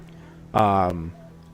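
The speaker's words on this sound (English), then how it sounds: "once I'm done saving the dogs, so that way we don't have to listen to dogs whimper" Dogs whimpering in the post-apocalyptic role-playing game Wasteland 2: a single short, loud, tonal whine with a wavering pitch that lasts about half a second, then cuts off against a low background hum.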